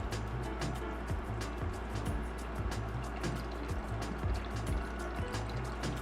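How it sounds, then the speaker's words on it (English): Fresh water pours steadily into a snake's water bowl, a continuous near trickle and splash lasting several seconds against a low background rumble. "Water bowl filled up with fresh agua."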